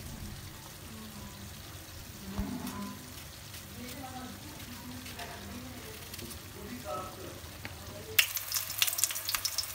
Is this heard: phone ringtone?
no